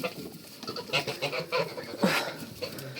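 A goose honks repeatedly nearby in short, nasal bursts, with other fowl calling faintly in the background.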